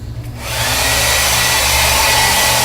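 A hair dryer starts up and blows loudly and steadily to set wet paint on a mixed media art journal page, a close, broad whooshing roar with a low motor hum underneath.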